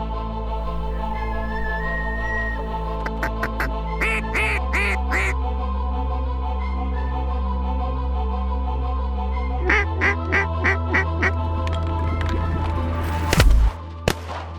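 Canada geese honk repeatedly during a public-land duck hunt in Oregon. Loud, clustered nasal calls rise over a steady low drone, and a sharp blast near the end sounds like a shotgun.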